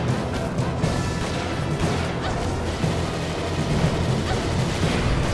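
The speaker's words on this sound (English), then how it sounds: "shooting him doesn't seem to be doing too much, but let's keep shooting him anyway" Attacks hit an enemy in the game Folklore, a steady wash of crashing, thumping impact and blast noise with no clear pauses and no speech.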